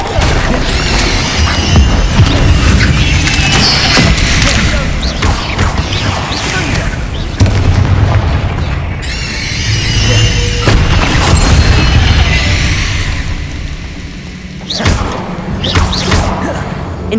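Spell blasts and explosions from the Hogwarts Legacy video game, loud booming thuds and crashing impacts in dense bursts across the combat, with game sounds and occasional voices mixed in.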